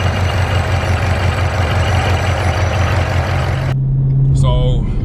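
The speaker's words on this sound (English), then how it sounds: "So I'll turn on the car and let you guys see what it does." A Ford Shelby Mustang GT500 with a fuel-dumping problem idles with a steady, deep rumble that holds for a few seconds before cutting out abruptly, leaving a brief faint squeak or voice at the end.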